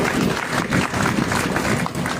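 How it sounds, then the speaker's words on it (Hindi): An audience at a Hindi spiritual discourse gathering claps in a short, dense, close burst of applause, with a few voices mixed in. "थोड़ी ताली बजा दो यार।"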